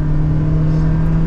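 A 2023 Toyota Prius hybrid accelerates, heard as a loud, steady low whirring engine and road drone from inside the cabin, with no talking.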